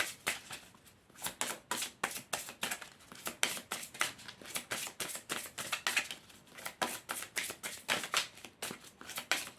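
Oracle cards from the Les Chemins de l'Éveil and Rebelles Sacrés decks are shuffled and drawn by hand, giving a steady stream of quick, papery riffling bursts close by, with no voices.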